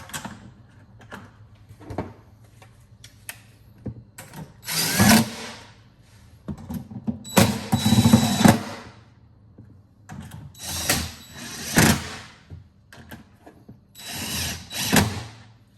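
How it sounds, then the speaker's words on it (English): A power tool bolting parts back into a Tesla during a 12-volt battery replacement, whirring and ratcheting in several short bursts of a second or two with pauses of quiet handling between, close and loud. "Now you can bolt all this back in."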